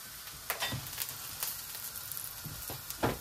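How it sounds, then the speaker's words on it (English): Garlic and ginger sizzle in a fresh layer of hot oil for crispy noodles, a steady close frying crackle broken by sharp spits and stirring knocks, with no voices. "I'm letting it fry up first"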